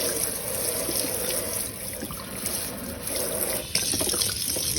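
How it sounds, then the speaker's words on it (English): Water runs steadily into a kitchen sink, a continuous splashing, trickling flow close by, with a brief louder surge near the end. "We're going to start adding water."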